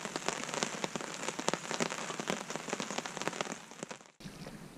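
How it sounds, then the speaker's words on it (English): Steady rain pattering on a tarp overhead at a lakeside canoe campsite, a dense, continuous patter of close drops with sharper individual taps throughout, no voices. "Pitter patter on the tarp."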